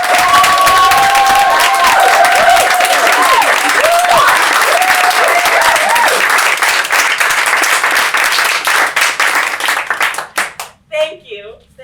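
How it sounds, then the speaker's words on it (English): Thunderous applause and cheering from a theater audience for a stage cast and crew, loud dense clapping with whoops and shouts, tapering off near the end as a voice begins to speak. "give the most thunderous round of applause to everyone on stage, to our cast, to our crew, right now"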